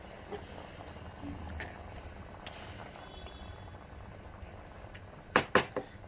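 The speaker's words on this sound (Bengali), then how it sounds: "এবার এটাকে ফুটতে দেবো জোরে করে দিয়েছি গ্যাস" A pot of water holding eggs boils on a gas stove, a soft steady bubbling heard up close, with a few sharp clatters near the end.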